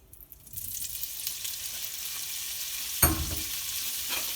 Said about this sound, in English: to saute the tofu, to color it just a bit